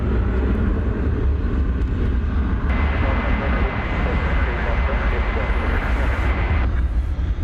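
An airplane at DFW airport roars steadily and loudly, a broad continuous engine rumble that swells partway through and holds to the end.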